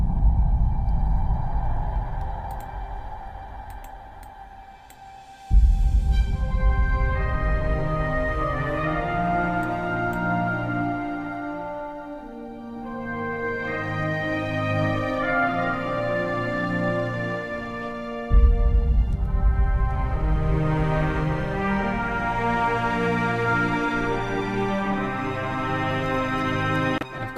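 Legato solo trumpet from the CineBrass library layered with Hollywood Strings cello samples, playing sustained, connected melodic lines over a low string bed, loud and close with no talking.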